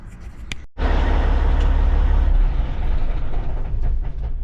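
A truck with a starting problem cranks briefly, then its engine catches and runs with a loud, close, steady low rumble.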